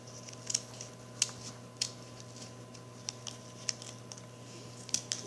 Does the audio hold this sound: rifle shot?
no